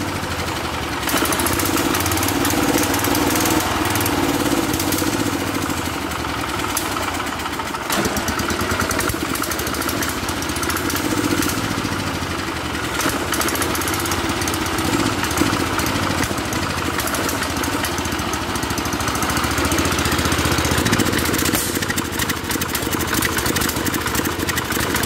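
A small engine runs steadily after carburetor work, a loud continuous buzzing drone that holds an even idle for the whole stretch with slight fluctuations.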